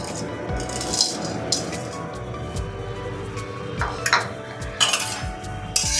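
Whole cumin, coriander, cinnamon, cloves and cardamom dry-roast in a hot wok as a utensil stirs them, giving continuous scraping and rattling with sharp metallic clinks every second or so.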